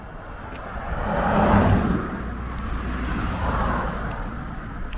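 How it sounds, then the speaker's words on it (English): Cars coming along Medhamsley Bank while a cyclist waits at the bottom of the hill: a broad, steady traffic rumble that swells as one vehicle passes close by, then settles into a continuous road hum. "Cars coming in."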